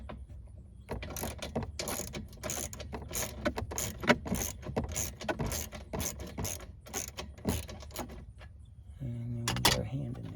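Ratchet clicks in a quick, repeated rhythm while two bolts on a 2000-2007 Ford Focus are broken loose, fairly close and metallic, ending with a brief whir.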